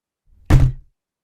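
A single heavy thump lands against a locked wooden door, close and solid, with a brief rattle trailing off and silence around it.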